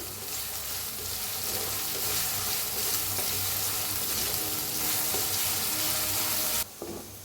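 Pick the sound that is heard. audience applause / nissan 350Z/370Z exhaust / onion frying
onion frying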